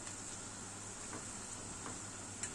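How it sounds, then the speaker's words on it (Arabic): Onions frying in hot oil for Egyptian koshari, a steady soft sizzle with faint crackles and an occasional tick from stirring, quiet and close with no talking. "البصل ابتدى يحمر معايا"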